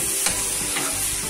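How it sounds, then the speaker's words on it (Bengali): A ginger spice paste frying in a pan for a prawn and vegetable curry makes a steady close sizzle, with a couple of faint stirring scrapes. "আদার কাঁচা গন্ধ চলে যাওয়া পর্যন্ত এটাকে ভালো করে আমি কষিয়ে নিই।"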